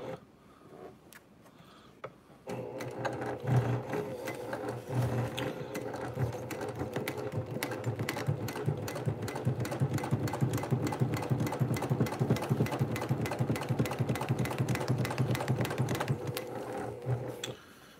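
A Brother PQ1500SL sewing machine stitches through clear vinyl, starting after a brief pause and then running as a fast, steady mechanical chatter of needle strokes, close and continuous for most of the stretch.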